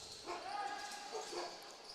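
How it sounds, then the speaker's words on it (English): Dogs bark in the stands of an arena during an Alberta Series Lacrosse game, a brief, faint pair of yips heard through the hall's echo and crowd noise. "if you can hear the dogs barking,"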